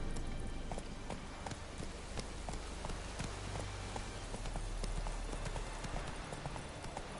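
A horse gallops across open ground in The Witcher 3, with rapid, continuous hoofbeats in a steady running rhythm over a dense ambient bed, loud and close throughout.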